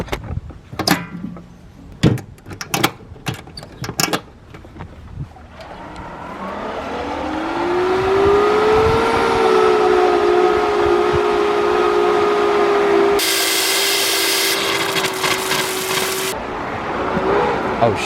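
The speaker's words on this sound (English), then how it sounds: "Let's start up the pump." A pool pump motor starts up after a few knocks and clunks, winding up in pitch and then settling into a loud, steady whine and hum, with a sudden hissing burst of rushing water partway through.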